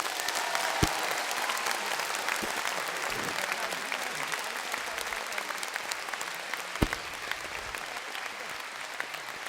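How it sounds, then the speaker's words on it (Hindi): A seated audience at a motivational talk claps loudly and continuously, a dense, even wash of applause with a few sharper individual claps standing out, no voices over it. "अपने भगवान और अपने मां बाप के लिए जोरदार ताली बजाइएगा"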